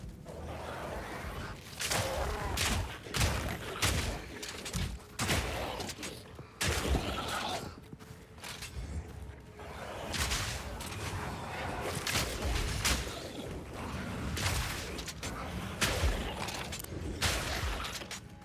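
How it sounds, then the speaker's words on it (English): Rapid bow shots in Path of Exile 2 on a PS5 Pro, dense bursts of sharp impacts and whooshes in irregular volleys, loud and continuous with brief pauses between flurries. "this is just my regular bow shot"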